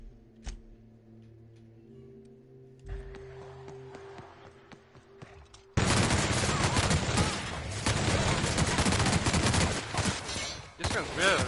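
Video game gunfire breaks out suddenly after a quieter stretch of faint ticks and hums, becoming a dense, loud, continuous burst of rapid shots that runs to the end.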